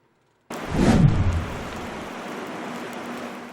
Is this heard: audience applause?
no